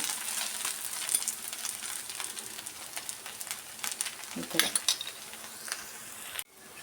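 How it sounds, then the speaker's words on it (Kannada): An onion dosa fries in oil on a pan, with a soft, steady sizzle and faint crackles close by, a few scraping touches near the end, then an abrupt stop. "ಈಗ ಅದ್ರ ಮೇಲೆ ಸ್ವಲ್ಪ ಆಯಿಲ್ ಈಗ ನೋಡಿ ಈ ಥರ ಆಯಿಲ್ ಹಾಕ್ಕೊಬೇಕು"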